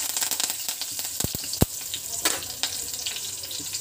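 Asafoetida and curry leaves fry in leftover hot oil, a close crackling sizzle with several sharp pops and spatters over a steady hiss, no talking.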